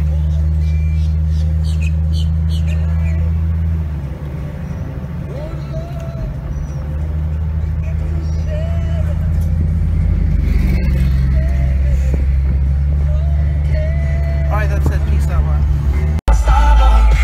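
A car rolls along with a steady low engine and road rumble close by, one voice talking over it throughout, ending in a sudden sharp knock.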